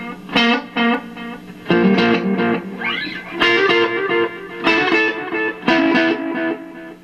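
Electric guitar playing bluesy phrases through a dark, analog-style delay with reverb applied only to the repeats, loud and close, with short note clusters trailing into softened echoes and one bent note.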